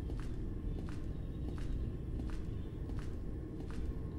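Footsteps in a dark horror video game, roughly five or six steady paced steps heard alone over a low rumbling ambient drone.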